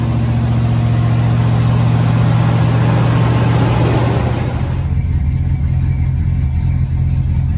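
A 1973 Ford F100 4x4 truck engine runs loud and close, revving hard with a rough mid-range roar for several seconds before dropping back to a steady, lower idle rumble.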